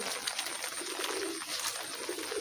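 Pigeons on a rooftop on a rainy day, cooing faintly against a steady hiss of rain, with no voices.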